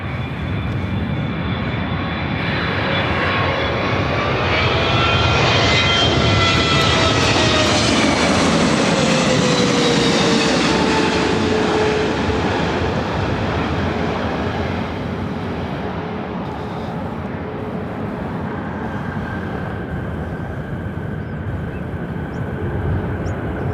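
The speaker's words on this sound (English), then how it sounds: "this is Singapore Airlines 777-300ER coming in from Tokyo to Narita on the Star Alliance livery" A Singapore Airlines Boeing 777-300ER in all-white Star Alliance livery passes at LAX, its jet engines building to a loud, whining roar with a falling pitch before easing into a steady distant rumble.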